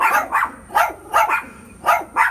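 A dog barks in sharp, close bursts, about six loud barks spaced roughly every half second to second, with no talking over them.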